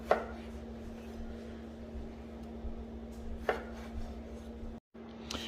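Knife cutting tomatoes into quarters on a board, a few faint, sparse chops spaced seconds apart over a low steady hum from a pan in the background.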